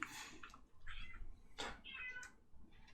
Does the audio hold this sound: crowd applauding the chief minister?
no